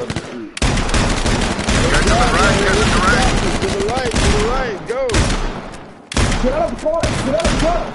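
Rapid automatic gunfire bursts in the battle royale game H1Z1, loud and close, rattling almost continuously with a brief gap, while players talk over the shooting.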